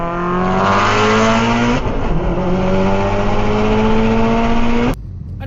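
A car engine revs hard and climbs in pitch through a gear shift, loud and close from inside, then cuts off abruptly near the end.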